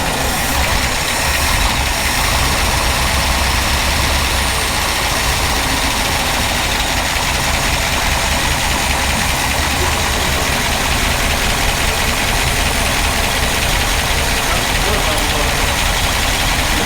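A vehicle engine runs at a steady idle, loud and close, a continuous rumble with no pauses throughout.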